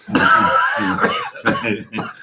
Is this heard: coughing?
yes